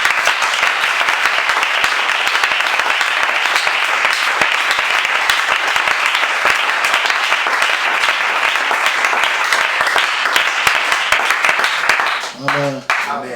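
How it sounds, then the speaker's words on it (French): Sustained, loud applause from a church congregation fills the space, dense clapping continuing steadily before tapering near the end as a voice begins. "donnons une forte acclamation"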